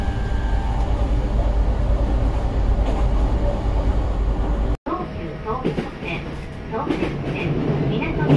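Train and station ambience at Yokohama railway station in Japan: a steady rumble under station noise, a sudden brief cut, then quieter platform sounds with clanks and chimes, with people talking throughout.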